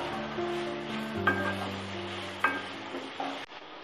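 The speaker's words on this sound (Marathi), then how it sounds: "दोडका पण तेलामध्ये छान असा परतून घ्यायचा आहे" Ridge gourd being sautéed in oil along with lentils for a dal vegetable dish, giving a soft, fairly quiet sizzle with a few sharper stirring clinks and scrapes near the pan.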